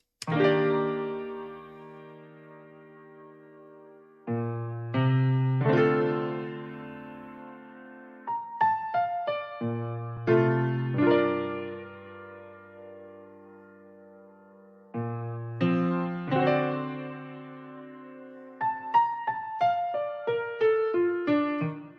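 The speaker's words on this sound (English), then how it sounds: "And now that piano sounds like this." Mellow piano chords and melodic runs processed with tape, reverb and compressor effects, soft and warm with a lingering reverberant tail, played in phrases with brief pauses between them.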